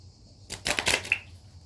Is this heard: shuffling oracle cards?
yes